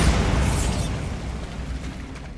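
Bombarda spell explosion in Hogwarts Legacy, a loud dense boom that starts at full strength and slowly rumbles away, with no talking.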